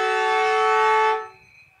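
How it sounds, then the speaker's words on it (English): A long, steady siren sounds at half-time of an Australian football semi-final between Kilarney Vale and Cardiff, loud and continuous for about a second before cutting off and fading, with no talk over it. "There's a siren sound."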